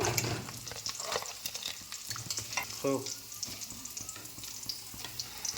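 Stuffed teasel gourd pieces fry in oil, giving a steady close sizzle with bursts of crackle and some stirring noise throughout.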